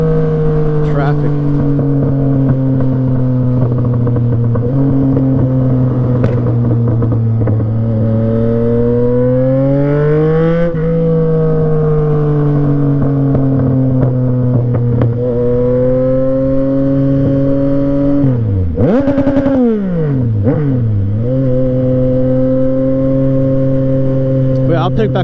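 Yamaha MT-09 motorcycle cruising in highway traffic, a steady loud engine drone with shifting pitch as it eases off and picks up, plus a brief surge near the end.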